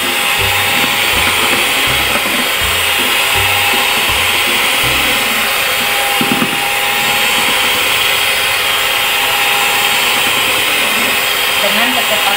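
An electric mixer beats eggs at high speed with a loud, constant whirring drone that stays steady throughout, while a voice speaks faintly underneath.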